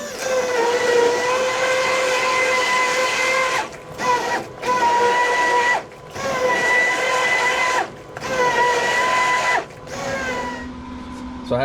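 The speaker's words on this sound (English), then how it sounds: "I have an immersion blender right here, and I'm just gonna go to town and blend this all up until it's a smooth consistency" An immersion blender whirs through soaked peppers to make a sauce, a loud, steady motor whine in several bursts broken by brief pauses, with the pitch dropping near the end.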